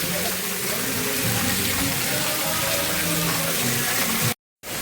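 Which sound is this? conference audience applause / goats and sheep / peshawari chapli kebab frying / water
water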